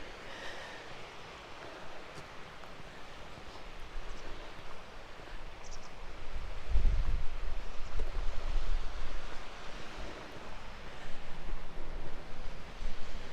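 Waves wash onto the beach at Old Laxey on the Isle of Man, a soft steady surf with wind noise, swelling a little louder midway, no voices.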